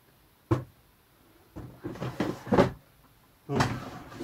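A drawer in a cabinet holding a collection of fire-alarm devices and sirens, opened with a few short wooden knocks and slides spread over several seconds, close by and fairly quiet.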